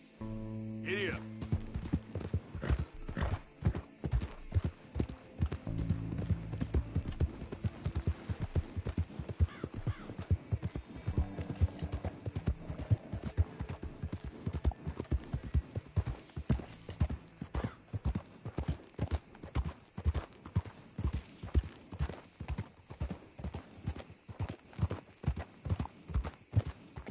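Horse hooves trot in a steady, loud clip-clop rhythm throughout, with a brief neigh near the start, in the Western open-world game Red Dead Redemption 2.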